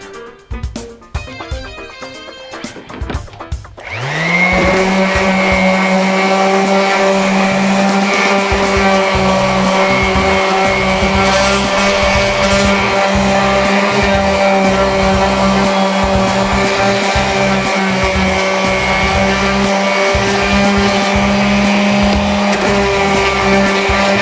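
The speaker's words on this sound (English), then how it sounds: "just want to sand this" An electric sander working cypress wood parts kicks in after a few seconds of quieter handling noise, then holds a loud, steady motor whine with a grinding edge to the end, with no talking.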